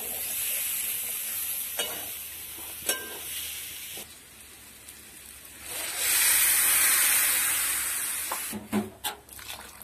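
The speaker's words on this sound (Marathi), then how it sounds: "त्यामुळे आता त्यामध्ये पाणी ओतणार आहोत" Water is poured into a pan of hot bean curry, raising a loud burst of sizzling and hissing steam over a quieter bubbling simmer, with a few sharp clinks of a utensil against the pan.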